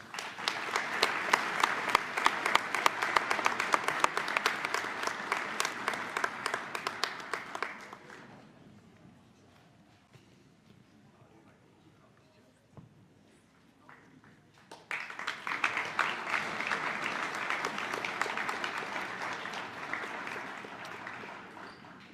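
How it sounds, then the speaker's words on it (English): A crowd claps for longtime ski coaches being honored at midcourt during a high school Hall of Fame ceremony in a gym, with steady applause that fades out, a quiet stretch, then a second loud round of clapping. "Let's give them a round of applause as well."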